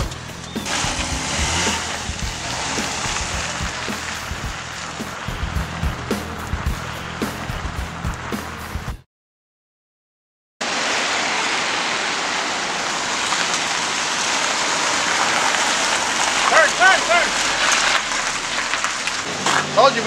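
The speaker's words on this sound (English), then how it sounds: "the rain's really starting to come down" Heavy rain drums steadily on a car, a dense loud hiss that cuts out briefly and then returns just as strong.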